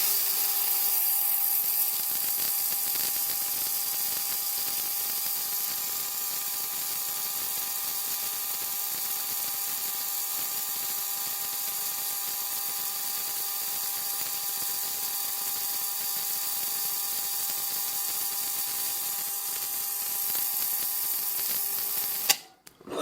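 A laser welder with argon shielding gas runs steadily, producing a constant bright hiss with faint tonal hums, even and unbroken for over twenty seconds before cutting off abruptly.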